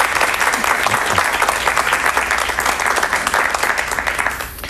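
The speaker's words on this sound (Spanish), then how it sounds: "Un aplauso para él, por favor." A television studio audience claps loudly and continuously, a dense, even wash of applause that lasts nearly five seconds and fades slightly at the close.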